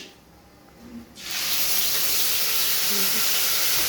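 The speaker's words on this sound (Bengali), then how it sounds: "আচ্ছা, ডিম কষা হচ্ছে" Egg curry starts sizzling hard in a pan, with a sudden loud burst of steady hissing and frying that stays constant after a quieter opening.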